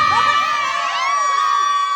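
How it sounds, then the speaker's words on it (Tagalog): A crowd at a baby's gender reveal party shouts and cheers loudly and close. Many raised voices, including children, whoop together in a sustained burst that fades toward the end. "Palakasan tayo ng sigaw."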